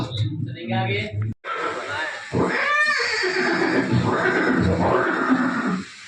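Chetak, Maharana Pratap's loyal warhorse, gives a single shrill whinny midway, rising and quavering over a steady bed of background sound and voices.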